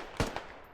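Gunfire passing overhead in a military shooter game (DCS / Squad), heard as two or three sharp cracks spread across a brief moment, moderately loud over a quiet ambient background.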